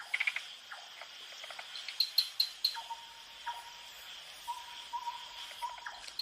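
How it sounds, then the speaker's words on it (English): Night-time tropical forest chorus with an owl calling among insects and tree frogs, a steady high cricket-like buzz and repeated short chirps and calls, all moderately near and without any talk. "A night owl,"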